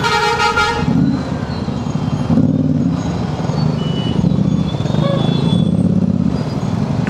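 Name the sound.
truck horn tooting a tune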